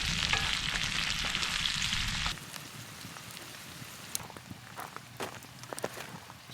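Sliced red potatoes and onions fry in a pan during campfire cooking: a loud, dense sizzle for the first two seconds, then a quieter crackle with scattered taps and clicks.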